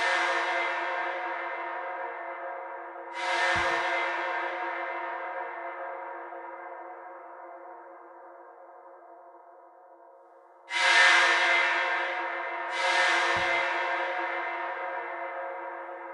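Synthesizer stabs for a minimal drum and bass track, drenched in fully wet reverb: four bright hits, each trailing into a long, slowly decaying ringing tail, with no voices.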